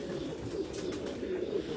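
Pigeons on a rooftop coo softly and steadily in a low murmur, close and continuous, with faint voices in the background.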